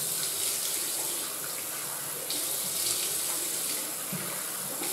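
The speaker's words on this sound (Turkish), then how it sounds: "Ondan sonra biraz bekledikten sonra yüzümü sadece suyla, ılık suyla yıkayacağım." Lukewarm tap water runs steadily into a bathroom sink while a face is washed, a continuous close splashing rush that fills the whole stretch with only small shifts in the flow.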